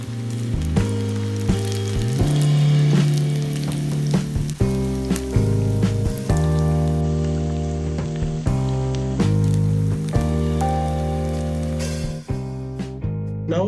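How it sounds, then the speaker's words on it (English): Chicken deep frying in oil over medium to low heat, a continuous sizzle running under prominent background music. "The chicken needs to be deep fried in oil, which is kept in medium to low heat."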